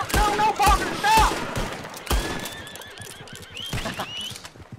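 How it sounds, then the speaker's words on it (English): A horse neighs and whinnies in the video game Red Dead Redemption 2, with several shrill calls up close amid gunfire and hoof clatter, without talk. "That's a horse."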